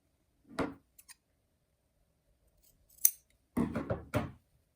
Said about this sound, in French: je vais juste couper dans le biais